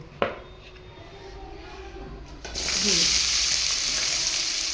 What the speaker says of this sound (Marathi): आता थोडं तेल टाकून कांदा भाजून घ्यायचा आहे आपल्याला.